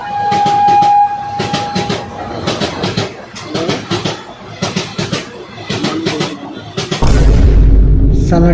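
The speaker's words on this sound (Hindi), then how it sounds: "साला ट्रेन भी छूट गई" A train passing close by, with a sustained horn blast early on, then rumbling wagons and clickety-clack wheel rhythm, loud throughout, with voices talking over it in a Hindi comedy sketch.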